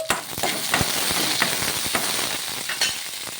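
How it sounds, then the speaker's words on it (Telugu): Green chillies sautéing in oil in a pan while making poha rava idli, giving a steady dense sizzle, close and continuous, marked by a few soft clicks of stirring and no voices. "పచ్చిమిర్చి వేసుకున్న తర్వాత ఇందులోకి కొద్దిగా నూనె అనేది వేసుకొని మగ్గించుకుందాము"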